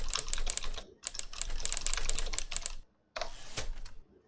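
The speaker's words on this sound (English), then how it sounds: "enjoy mechanical typewriting sounds while you are creating content" Mechanical typewriter sound effects from the INK writing editor clatter in quick bursts of crisp keystrokes, broken by brief silent pauses between runs of typing.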